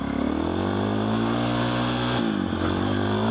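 A motorcycle in first gear revs up hard, its loud steady engine note climbing in pitch, then dropping sharply as the rider shifts.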